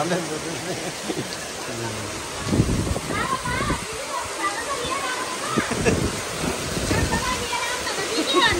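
Heavy rain pours steadily and close, a dense wash of falling water over which several people talk and exclaim.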